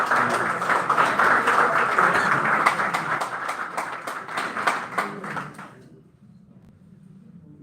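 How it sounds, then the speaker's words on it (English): An audience at an institute seminar applauds loudly and steadily for several seconds, the clapping thinning out and fading to a quiet room near the end. "A round of applause for"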